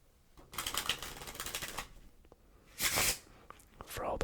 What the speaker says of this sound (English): I will give it one more shuffle.